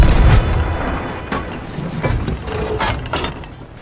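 Ship cannon fire in Sea of Thieves, a heavy low boom at the start followed by several duller thuds and rumbling sea ambience.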